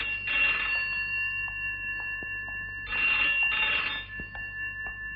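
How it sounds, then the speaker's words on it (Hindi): A telephone bell rings in two bursts of trilling rings separated by a pause, fairly close and clear, with no voices. "फोन की घंटी बजी सुनाई नहीं देता?"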